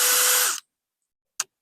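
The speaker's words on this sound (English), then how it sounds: "I'm going to go ahead and drill my holes in here for the different spots" A power drill bores into scrap wood with a loud, steady whirring roar that winds down and stops, then a single short clack.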